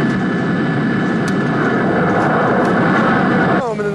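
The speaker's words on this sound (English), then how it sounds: "your jet takes off, launching you into virtual airspace" A loud, steady jet engine roar from an arcade flight simulator cabin during takeoff fills the clip, holding level until a brief tonal shift near the end.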